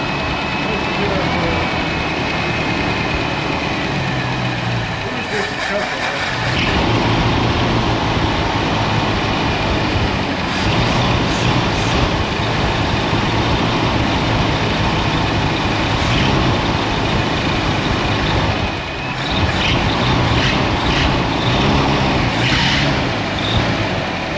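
A 1974 Ford Ranchero with a 351 Cleveland V8 runs steadily throughout, a loud, continuous engine rumble with a brief dip around the middle, while people talk nearby.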